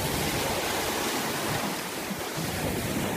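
Ocean waves crash and surge against a rock on the shore, a continuous loud, broadband roar of churning water with wind, steady throughout.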